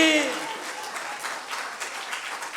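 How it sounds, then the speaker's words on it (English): A congregation at a church revival service claps hands, a moderate steady patter of many hands at mid distance, with a voice briefly heard at the start. "Clap your hands"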